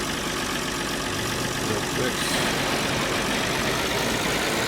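A tractor engine in a farming video game runs at a steady idle, a continuous broadband rumble that swells slightly partway through, with someone speaking briefly over it.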